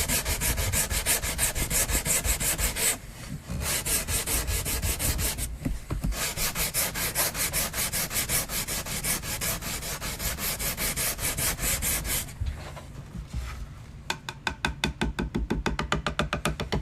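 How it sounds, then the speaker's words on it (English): A Soldier 76 prop being sanded by hand with sandpaper, giving steady, close, loud rasping strokes that run almost continuously, with brief pauses near three and five and a half seconds and quicker rhythmic strokes toward the end. "Thought the sandpaper was kind of losing its gusto, but it's not, which is good."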